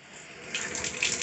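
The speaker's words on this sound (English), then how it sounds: "slowly turn the water on because their hearing is really sensitive" A water tap is opened slowly and begins running, starting as a faint trickle and quickly building into a steady, close gush splashing into a sink.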